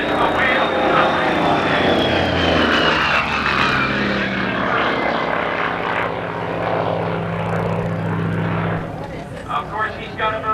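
Propeller-driven aircraft coming in to land at a 1987 Confederate Air Force airshow in Harlingen, a loud droning engine whose pitch slowly falls as it passes, with a public-address commentator talking over it.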